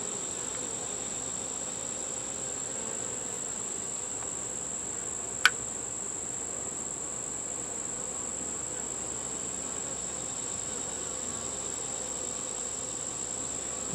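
Insects hum steadily around a beehive outdoors at night, a constant faint high drone with one sharp click partway through and no voices.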